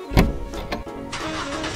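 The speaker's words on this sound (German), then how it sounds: "Komm schon, Auto. Los, spring an." Starting of a Playmobil toy family car, heard as a sharp thump followed by a cranking engine that catches and settles into a steady running sound, with no talk.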